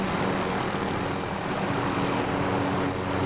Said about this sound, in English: we should probably move that helicopter away from here